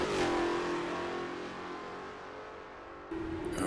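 A powerful car engine roars loudly and steadily, its pitch climbing, then a quick surge near the end as it revs harder.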